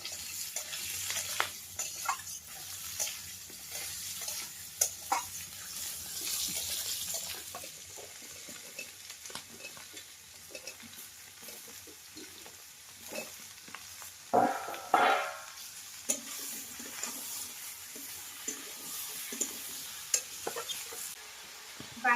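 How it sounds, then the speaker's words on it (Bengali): Potato and onion curry being stir-fried in a pan in a village kitchen, with a steady soft sizzle, intermittent scraping stirs and occasional splashy clatter throughout. "আর আমার কিন্তু তরকারি কষাই হয়ে যাচ্ছে"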